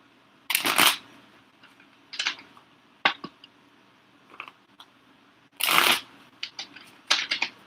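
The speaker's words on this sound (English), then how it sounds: "Now y'all see how they shuffled and cut the cards" Tarot cards are shuffled and cut in several distinct, close bursts of riffling and snapping, separated by short quiet gaps, with no talking.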